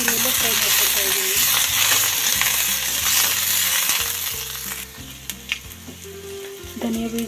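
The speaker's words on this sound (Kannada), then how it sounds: "ಬೆಳ್ಳುಳ್ಳಿ ಹಾಕ್ತಾಯಿದ್ದೀನಿ, ಶುಂಠಿ ಹಾಕ್ತಾಯಿದ್ದೀನಿ, ಕಡಿಮೆ ಇಲ್ಲೆಲ್ಲ ಫ್ರೈ ಮಾಡ್ಕೊತಾಯಿದ್ದೀನಿ" Garlic and ginger sizzle steadily in hot oil for a chicken gravy, a loud continuous frying crackle with rhythmic stirring scrapes and clinks of a utensil against the pan.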